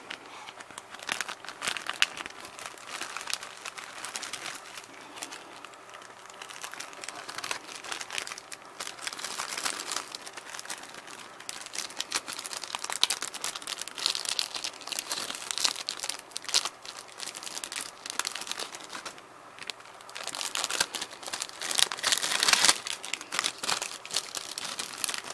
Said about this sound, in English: Again, another bag. I'm just going to cut it open.